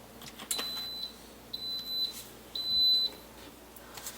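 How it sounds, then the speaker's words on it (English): An Instant Pot electric pressure cooker beeps as the saute button is pressed, three short high electronic beeps about a second apart, the last held slightly longer, clear and close against a quiet kitchen. "It beeps and it will turn on to start heating up the pot."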